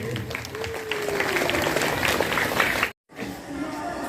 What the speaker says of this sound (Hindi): आप लोग जोरदार तालियों के साथ स्वागत करिए।